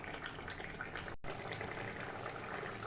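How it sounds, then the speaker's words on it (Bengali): Egg curry with potatoes bubbling in a pot, a steady low simmering hiss and gurgle, faint and continuous with a brief cut partway through. "বেশ সুন্দর ফুটতে শুরু করেছে"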